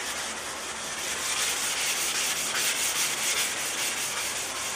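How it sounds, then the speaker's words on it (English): Continuous hand wet sanding of a 1999 Buick Regal LS fender, a steady rough rubbing hiss with a faint back-and-forth rhythm, close up and with no talking. "I'm actually going to wet sand this whole fender because I'm blending it"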